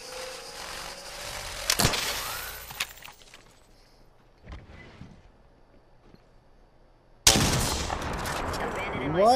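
Gunfire in Apex Legends, a sharp loud shot, scattered distant cracks, then a sudden dense burst of rapid fire toward the end, with a voice speaking over parts of it.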